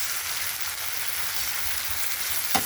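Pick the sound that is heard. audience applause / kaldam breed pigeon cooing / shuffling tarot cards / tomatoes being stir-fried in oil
tomatoes being stir-fried in oil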